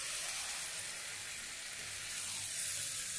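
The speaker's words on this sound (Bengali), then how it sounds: "মাংসটা দিয়ে দিলাম, দিয়ে এবারে কিছুক্ষণ কষে নেব।" Chicken pieces sizzle in a pan of cooked-down spice masala as they are sautéed, a steady, soft, hissing frying sound with no talking.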